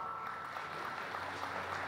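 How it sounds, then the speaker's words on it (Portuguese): Steady crowd applause at an agricultural awards ceremony, a dense wash of many hands clapping at a constant moderate level, with a faint hum underneath and no voices over it. "Palmas novamente, pessoal."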